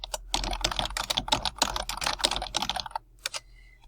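Rapid typing on a computer keyboard, a dense run of crisp close key clicks for about three seconds before stopping, with no voices.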